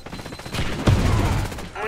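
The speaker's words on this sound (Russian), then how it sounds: "тиммейты стреляют, все стреляют" Rapid overlapping gunfire from teammates in the video game Warface, a dense fusillade of shots and automatic bursts that grows louder midway and keeps going near and steady.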